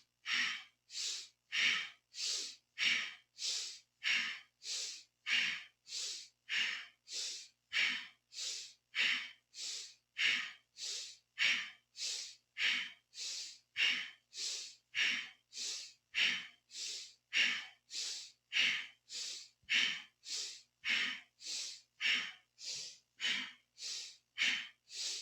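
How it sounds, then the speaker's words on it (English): Deep, full breaths from Kundalini yoga practice, a steady run of strong inhales and exhales repeating about every half second, close and loud with no talking. "using a powerful breath, but also use a complete breath, a full inhale in and a complete exhale out"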